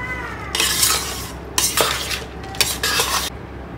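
A spoon scrapes and mixes ingredients for hilsa pulao in a rice cooker pot, with several close, brisk metallic stirring bursts, while a cat meows faintly at the start.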